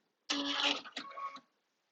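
A sewing machine's thread cutter fires once after stitching fabric and paper bookmarks, a short close mechanical whir followed by a clattering click, then silence.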